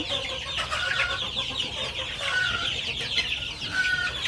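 Steady clucking from a group of native and broiler chickens and chicks, with small chirping calls rising now and then over a constant farmyard murmur.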